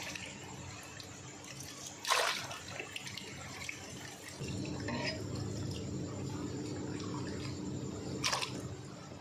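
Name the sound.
potato chips being put into water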